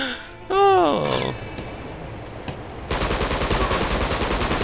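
Gunfire in Uncharted 2: Among Thieves. A sweeping tonal whoosh and a few scattered shots give way to loud, rapid automatic fire that fills the second half.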